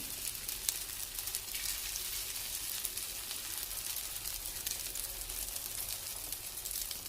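Thin omelette batter spread chapati-wide in a pan sizzles continuously, a dense even hiss with faint crackling that holds at a steady level from start to finish.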